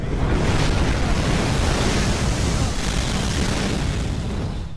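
A great gust of wind blows out ritual flames in an adventure video game, heard as a loud, steady roar of broadband rushing air that holds for several seconds with no voices.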